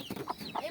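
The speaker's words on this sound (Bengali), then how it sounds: "এই হচ্ছে আমার মোরগ" A rooster on a small backyard chicken farm gives short, faint clucking calls, two quick bursts heard alone.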